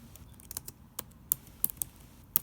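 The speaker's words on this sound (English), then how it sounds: "So I'm just going to go ahead and type in Santa Ana, California weather." Fingers tap out a short burst of typing on a computer keyboard, a search for local weather, with quiet, irregular key clicks and a few sharper strikes that sound close and alone, without any talking.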